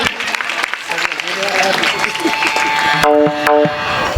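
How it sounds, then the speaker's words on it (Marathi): An audience applauds at a Shiv Jayanti kirtan led by a woman kirtankar, a burst of clapping mixed with crowd voices and sustained musical tones, steady and fairly loud throughout. "जोरदार टाळी होती."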